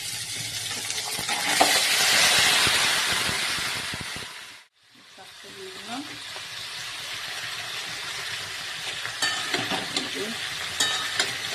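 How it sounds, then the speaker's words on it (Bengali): Mung dal dry-frying in a pan for a vegetable dish, a dense steady sizzle with stirring that breaks off briefly, then resumes slightly softer with light utensil scrapes. "ডালটা বেশ কড়া করে ভেজে দিয়ে হচ্ছে দিয়ে দিলাম"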